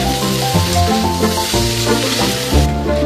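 Roasted peanuts mixed into a frying cauliflower filling for singara, with a loud steady sizzle and a few soft stirring shifts over about three seconds.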